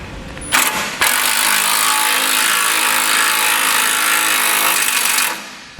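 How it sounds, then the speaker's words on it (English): A power tool, likely an impact wrench with an 11/16 socket, runs continuously and loudly for about five seconds, driving a 7/16 bolt on a Demco base plate for a 2016 Chevrolet Colorado. "I'm going to be using an 11/16 wrench and socket to tighten it up"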